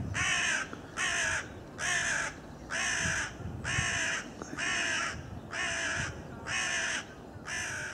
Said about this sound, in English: every time I'm around he circles above me crowing